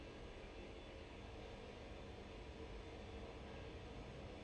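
A Turbo Beaver floatplane takes off in the X-Plane 10 flight simulator, its engine giving a constant, even roaring drone that holds steady throughout.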